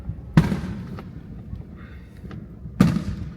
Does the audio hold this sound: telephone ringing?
no